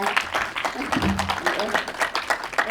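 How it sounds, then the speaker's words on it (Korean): Scattered applause from a small cinema audience at a community film screening, uneven claps that come and go, with a voice speaking faintly underneath. "함께 박수로 부탁드리겠습니다."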